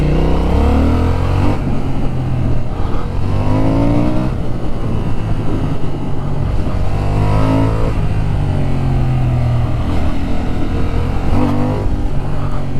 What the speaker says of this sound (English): That was the traction control kicking in then, that wasn't the rev limiter.